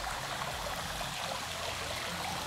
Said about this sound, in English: this water feature that looks over the little retention pond